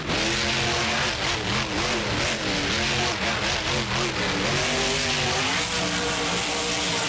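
Monster truck engine in BeamNG.drive revving and accelerating with a steady mid-pitched drone that rises and falls, loud and close throughout, with no distinct crash standing out.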